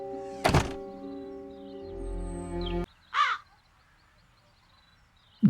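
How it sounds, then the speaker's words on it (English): Crows caw in a video game, with a few harsh, separate calls scattered across the moment alongside a hollow thunk and a low sustained tone, set against otherwise quiet ambience. "You'd better start catching those crows."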